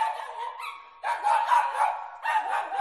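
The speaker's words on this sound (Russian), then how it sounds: "Я проснулся от лая соседской собачки." A small dog yaps in three quick, high-pitched bursts, close and fairly loud, with short gaps between them.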